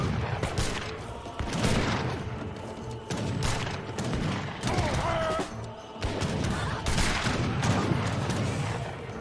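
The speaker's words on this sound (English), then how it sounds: "I think even more organ guns coming now." Organ guns and falconets fire in a strategy video game, with repeated bursts of gunfire and booms in clustered volleys that recur every second or two, loud and dense, under a faint voice.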